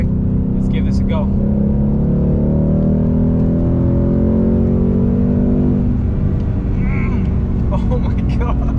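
A 2020 Ford Mustang GT V8 pulling hard in fifth gear, engine roar loud and close with rising pitch, while someone talks excitedly over it.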